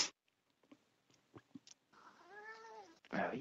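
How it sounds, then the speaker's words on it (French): A cat gives one drawn-out, clear meow close by, preceded by faint soft clicks and rustles and followed by a burst of broadband noise. "Le chat est en train de me perturber."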